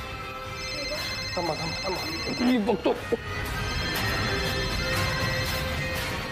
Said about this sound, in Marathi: माझा फोन आईंचा असणार.